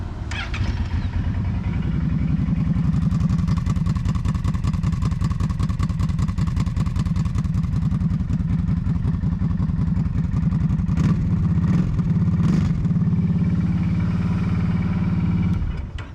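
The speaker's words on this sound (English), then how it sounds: "Now that I took the spark arrestor out, we're gonna let y'all hear it and see what y'all think" A lifted 2020 Kawasaki Brute Force 750 ATV idles and revs with its spark arrestor removed, a loud, close, throbbing exhaust with a rapid steady pulse, several sharp blips of throttle near the end, then cutting off.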